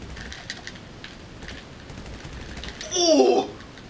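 Rapid burst of video game gunfire near the end, loud and close after a stretch of quieter background ambience, with faint scattered clicks before it.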